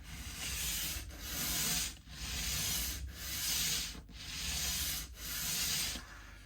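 Hand sanding on a Yamaha F310 acoustic guitar, steady rasping strokes back and forth in a regular rhythm, about one per second, close and moderately loud.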